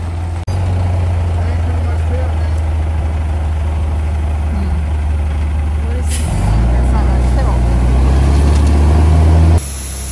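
A gravel delivery truck idles loudly with a deep steady engine rumble, the pitch shifting as it works to spread its load, ending with a sharp hiss of air release.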